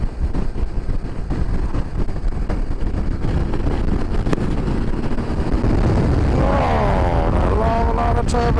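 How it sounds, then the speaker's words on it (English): Loud, constant wind buffeting the microphone on Scotland's north coast, with a steady rumbling roar throughout and a brief higher whine near the end. "It's unbelievably windy."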